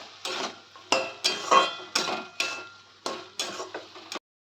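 Pui mituli, a Bengali Malabar spinach dish, being stirred in a pan, with a spoon scraping and knocking against the metal in about seven distinct, evenly spaced strokes, close and clear, with no voices.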